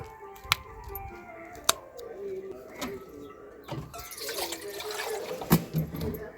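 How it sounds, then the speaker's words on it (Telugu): A few sharp taps and clicks, then a short stretch of water pouring into a mixer-grinder jar holding garlic, ginger and green chillies, with faint cooing in the background. "అందుకోసమనే కొన్ని నీళ్ళు అయితే వేసుకుంటున్నాను చూడండి"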